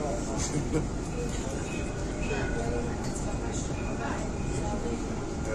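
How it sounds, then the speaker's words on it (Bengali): Interior rumble of a moving tram in Dubai, a steady low rolling drone with faint rattles and squeaks, while people talk quietly. "আমরা দুবাইয়ের ট্রামে আছি এখন।"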